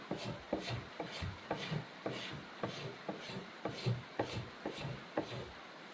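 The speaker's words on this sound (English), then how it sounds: "And then I'll come over here and scrape some." A blade edge scrapes along wood while chasing a growth ring, in repeated rhythmic rasping strokes about once per half second, close and moderately loud, no speech.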